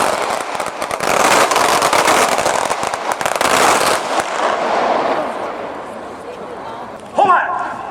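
A feu de joie of ceremonial rifle fire at a National Day Parade sounds as a dense, rippling crackle of many shots rolling for several seconds, then fading, followed by a shouted command.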